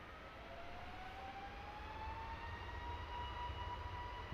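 A Wizz Air airliner rolling for takeoff at London Luton Airport, heard as a steady, faint distant engine roar with a slowly rising whine, alone without voices.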